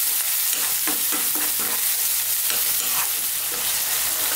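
Eggplant bharta cooks gently in a pan with a steady, soft sizzle, and a spoon stirs and scrapes through it at irregular moments. There is no talking.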